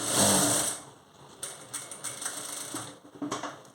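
A sewing machine stitching thread piping onto a blouse runs with a brief louder burst, then a light uneven patter of stitches close by, with no speech.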